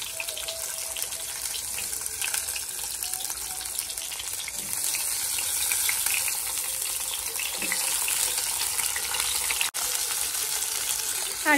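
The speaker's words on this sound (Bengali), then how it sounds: "আর এদিকে যে কুমড়ো ভাজা বসিয়ে দিয়েছি।" Pumpkin slices fry in a hot pan on a home kitchen stove, giving a constant loud sizzle that grows slightly stronger midway, with a brief clatter near the end.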